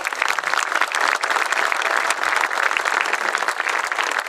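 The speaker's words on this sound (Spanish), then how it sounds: "quiero un aplauso fuerte para los dos que me van a acompañar hoy" A crowd at an official school anniversary ceremony gives loud, sustained applause, a thick even roar of clapping hands continuing without pause throughout.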